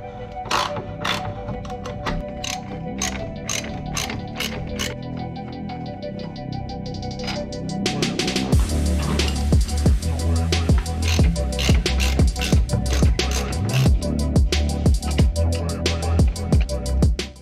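Hand tools work the single rear bolt of a BMW E36 rear differential, first with a string of evenly spaced sharp clicks, then a denser, louder run of metallic clatter and ratcheting, close by.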